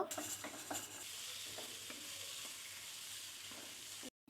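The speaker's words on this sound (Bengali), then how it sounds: "এর মধ্যে টমেটো, পেঁয়াজ, কাঁচামরিচ, রসুন কুচি, আদা কুচি ও কাজু বাদাম দিয়ে এটি কিছুক্ষণের জন্য ভেজে নিব।" Tomato, onion, green chilli, chopped garlic, ginger and cashews fry in oil with a dense, continuous sizzle and light stirring taps, close and steady until a short cut near the end.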